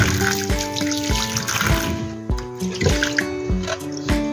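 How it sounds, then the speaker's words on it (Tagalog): Bamboo shoots being washed in clean water, with irregular splashes, drips and trickles as the shoots are handled, close and fairly loud, bursts of water every half second or so. "Hugasan lang po natin ang malinis na tubig."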